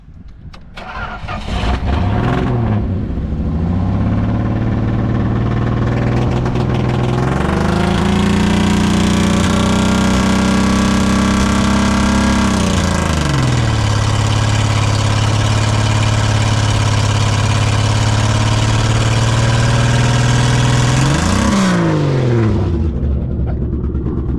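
The engine of an old, rat-infested Dodge Challenger being revived, cranking and catching, then running loud and close with revs rising and falling twice while a clutch noise sounds through it, and no talking.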